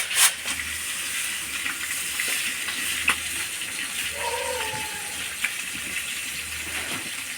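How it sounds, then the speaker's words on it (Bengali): A fish head fries in a pan with a steady, soft sizzle and bubbling hiss, close and fairly quiet, with a few faint clinks and stirring noises and no voices. "মাছের মুড়াটা ভালো করে ভাজিয়ে নিলাম"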